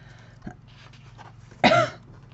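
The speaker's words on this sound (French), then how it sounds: "Je suis désolée si je tousse encore une fois." A woman coughs once, sharp and close, outdoors in strong wind, with a fainter throat sound just before it.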